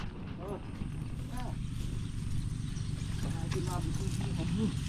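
Horse hooves clip-clop in a loose rhythm under nearby talking voices, with a brief whinny-like sound near the end.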